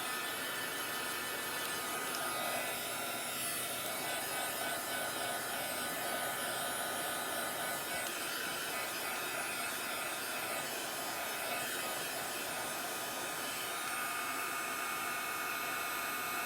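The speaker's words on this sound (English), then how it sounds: "now I'm going to have to dry this because it's wet, wet, wet. And it's going to be noisy" A loud hair dryer blows steadily over a wet handmade craft welcome sign, a constant close whooshing roar throughout with no talk.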